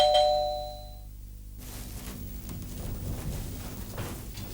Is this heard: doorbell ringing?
yes